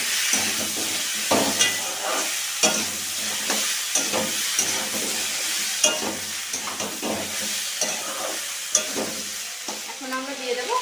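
Cut potato, eggplant and boiled chickpeas frying in a pan, with a steady sizzle broken by repeated scraping stirs at an irregular rhythm, close and moderately loud, with no voices.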